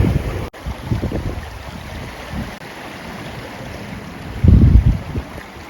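Sea waves on the Mumbles coast: a steady wash of surf and wind-blown water roars continuously up close, swelling louder as a larger wave surges in near the end, with no voices.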